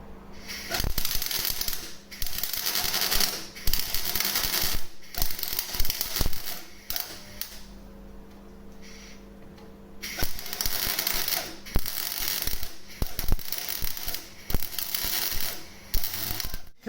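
MIG welding a steel repair plate onto a Vauxhall Cavalier 2.0 16V, with repeated short crackling bursts of arc buzz separated by brief pauses, fairly close and moderately loud.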